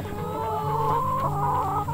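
A hen clucks close by in a backyard chicken run, with steady, continuous clucking and soft chatter running through the whole stretch and no talk.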